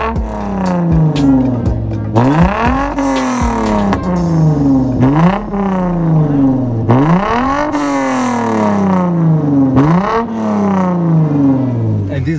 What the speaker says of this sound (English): Wait until we turn on the car.